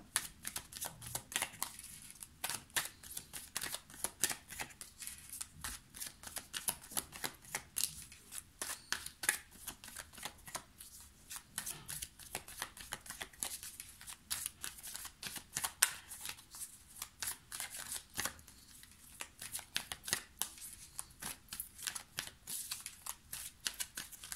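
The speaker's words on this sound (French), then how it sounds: "Hop, je vais vous prendre 3 cartes de l'améthyste Love." Oracle cards from an amethyst love deck are shuffled and drawn, a long run of quick papery riffling and flicking close by, steady and soft with no talk.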